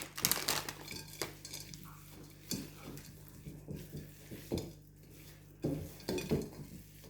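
Flapjack cookie mixture being stirred in a bowl, with a spoon clinking and scraping against the sides in uneven bursts, close up and fairly clear, plus some soft rustling and no talking.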